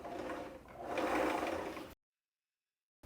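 A sewing machine runs steadily while winding a bobbin under foot-pedal control, a continuous motor whir for about two seconds that swells and then cuts off abruptly, followed by silence and a brief restart.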